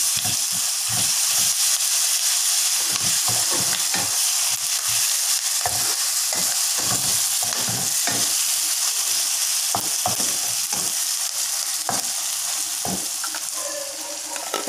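Ginger and garlic sizzle steadily in hot oil in a pan for fish ball sambal, with repeated scraping strokes of a spoon stirring through the constant frying hiss; close and fairly loud, no voices.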